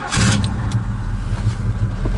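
A 1968 Pontiac GTO with its original 400 engine running just after start-up, a steady loud rumbling idle close to the microphone with a brief higher burst near the start.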